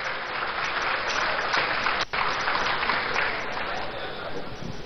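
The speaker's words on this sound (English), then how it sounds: "Let's give him a round of applause." Applause from an audience in a large hall at a labour meeting, greeting a union representative; a dense, steady wash of clapping throughout, with a brief dip midway.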